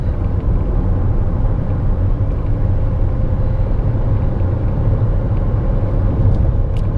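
Steady low rumble of a Fiat Toro Freedom 1.8 16V with six-speed automatic pulling in sixth gear at about 120 km/h and 2,500 rpm, a dense continuous drone of engine and road noise heard from inside the cabin, with no talk.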